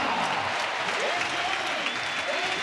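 A bullring crowd at a bullfight in Valencia during the Fallas festival gives a dense, loud ovation of sustained applause, continuous across the whole moment.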